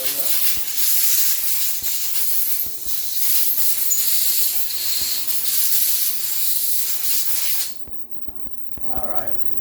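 Spray rinse over nitro engine parts after ultrasonic cleaning, a loud continuous hiss that cuts off abruptly near the end, followed by a brief voice.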